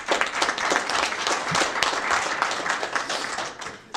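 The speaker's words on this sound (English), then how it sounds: "will we give you applause?" A crowd at a city council meeting applauds steadily for a few seconds, dense clapping throughout at a fairly loud level, with no voices standing out.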